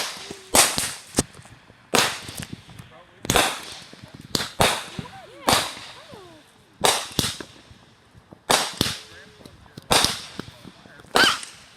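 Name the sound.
fireworks show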